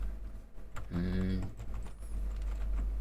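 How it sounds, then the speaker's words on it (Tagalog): Typing on an Onikuma G80 keyboard gives scattered clicky keystrokes at moderate distance, with a person's voice briefly speaking over the clatter in the middle. "Keyboard tester."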